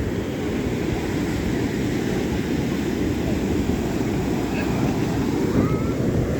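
Sea waves washing up on the beach at Puri, a loud constant roar of surf mixed with wind buffeting the microphone, continuous and close throughout.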